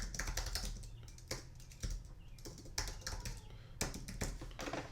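Fingers typing on a computer keyboard while entering a quiz question, quiet close clicks in quick irregular bursts separated by short pauses, with no talking.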